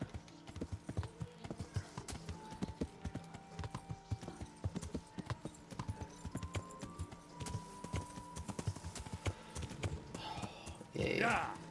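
Horse hooves clip-clop in a steady trotting rhythm while riding Pebbles through the medieval world of Kingdom Come: Deliverance, close and continuous with occasional speech over the top and a burst of louder noise near the end.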